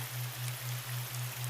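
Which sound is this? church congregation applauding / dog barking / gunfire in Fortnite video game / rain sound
rain sound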